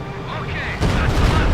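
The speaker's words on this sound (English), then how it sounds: "Another railway artillery barrage." Railway artillery barrage in Company of Heroes 2, a heavy rumbling blast that swells suddenly midway and rolls on as a dense, loud boom over lingering battlefield noise.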